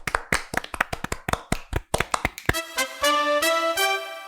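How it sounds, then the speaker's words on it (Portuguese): A small group clapping hands in a podcast studio, quick uneven claps that get denser, then giving way to bright chime-like tones near the end. "Palmas, ela merece mais palmas."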